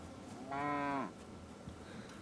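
A cow lows once in the video game Kingdom Come Deliverance 2, a single drawn-out moo of about half a second, fairly loud against quiet ambient background.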